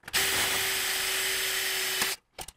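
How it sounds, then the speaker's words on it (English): Power drill boring a bolt hole through metal on a welding cart: a steady, loud, close whine with a constant tone for about two seconds, cutting off abruptly, followed by a few light clicks. "and drill the first hole through"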